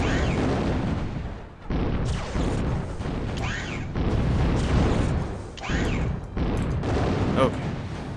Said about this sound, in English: Oh, and some artillery.